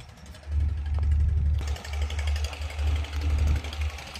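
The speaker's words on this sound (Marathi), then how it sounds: "मशीन चालू आहे रोड बनायचं काम चालू आहे समोर." A road construction machine running nearby, a loud low rumbling engine with rough pounding pulses that grows heavier partway through, no talking.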